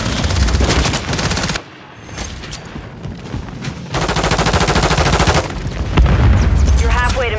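Heavy automatic fire from an AK-47 in Call of Duty: Modern Warfare 3 (2023) rattles in loud, close sustained bursts, breaking off briefly and then resuming with booming impacts, while game voices call out under the gunfire.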